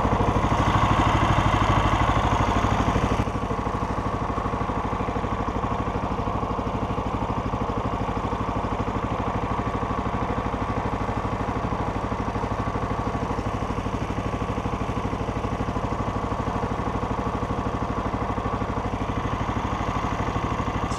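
A Backwater Swomp Lite 13hp mud motor idles on the water, a steady, close, continuous engine drone that holds an even level throughout, slightly louder for the first few seconds.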